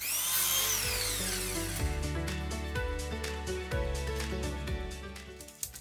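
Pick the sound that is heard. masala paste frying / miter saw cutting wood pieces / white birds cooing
miter saw cutting wood pieces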